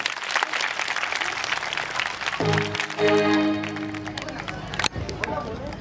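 An audience claps for a dance group at a Home Minister show in Madha, with crowd noise and chatter. Sustained sung or instrumental tones rise partway through the applause, and a sharp bang comes near the end.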